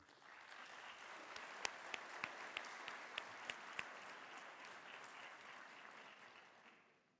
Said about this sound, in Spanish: Un fuerte aplauso de bienvenida.